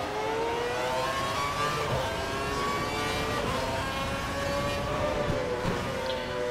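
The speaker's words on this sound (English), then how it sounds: "Let all the cars fly past." Formula 1 cars from the 2012 season race past in a video game set at Shanghai, a steady, loud engine whine with rising and falling pitch as several cars scream by one after another.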